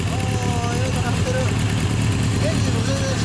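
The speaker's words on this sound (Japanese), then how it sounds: "オッケー、エンジン音聞かせて。" A 1983 Suzuki GSX750S Katana motorcycle with a Yoshimura exhaust idles steadily and loudly, a low continuous rumble with no revving, heard up close.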